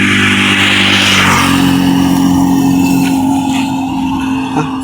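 A motorcycle engine revs loudly and close, holding a steady harmonic drone with a brief rise near the start, on a ride through town to the market, with no talk.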